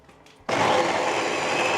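A kitchen blender starts abruptly and runs loud and steady, whirring as it blends a thick frozen smoothie with coconut yogurt and a little added water.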